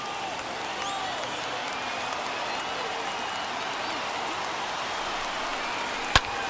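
A baseball stadium crowd of about 35,000 fans on their feet at a Phillies–Nationals game sends up a continuous distant roar of cheering, steady and dense throughout, with one sharp crack near the end.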